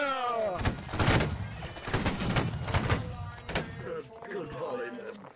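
A line of soldiers fires a musket volley in Holdfast: Nations at War, a burst of overlapping sharp cracks near the start, then further scattered bangs amid shouted commands and chatter.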